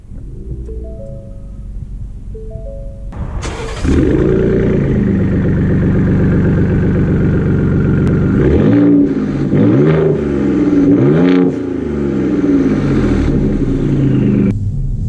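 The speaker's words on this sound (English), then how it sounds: "the exhaust is quite a bit louder than a stock Raptor" A modified Ford Raptor Black Widow Edition pickup truck starts, then idles with a deep, loud aftermarket exhaust rumble and several revs rising and falling, close by.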